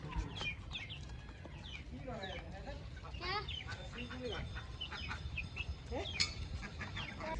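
Hens and chicks cluck and chirp in a lively scatter of short calls, close by, while grain is scattered for them; talk drifts underneath.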